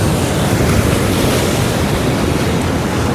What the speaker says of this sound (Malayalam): ഓ ഇതൊരു തിരമാലകൾ ഗൈസ്